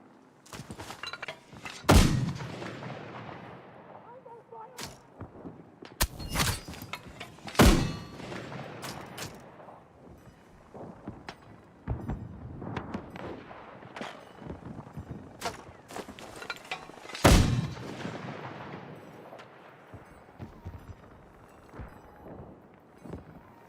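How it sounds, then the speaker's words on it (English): Mortar fire in a military shooter video game, a series of sharp distant booms and thuds spaced irregularly across the stretch, several louder blasts standing out over quiet background rumble. "All I'm doing is counter mortaring."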